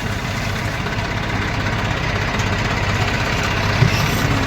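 A tractor engine rumbles at idle close by, a steady, loud low drone with no real change in pace and no talk over it.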